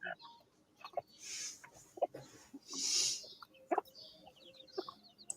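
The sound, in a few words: chickens around dogs eating biscuits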